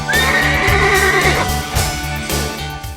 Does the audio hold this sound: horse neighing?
yes